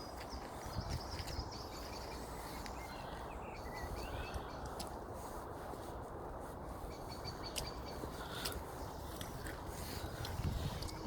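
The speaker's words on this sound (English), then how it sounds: "All the birds tweetering away." Small birds chirping and tweeting in the morning outdoors, faint and distant over a soft steady background hiss, continuous and unhurried with no voices.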